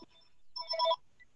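A telephone rings during a court hearing, a short electronic ringtone burst of tones, moderately loud, with no talk over it.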